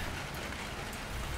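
Rain falls outdoors at a gorilla enclosure as a dense, even, loud wash of drops spattering on surfaces, with no pauses and no talk.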